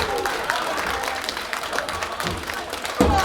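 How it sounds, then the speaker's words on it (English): Crowd at a live wrestling show in Campbell River applauding after a big slam, steady clapping and cheering throughout at moderate distance, with a louder burst near the end. "The crowd here at Campbell River appreciating the power from big Malik Melo"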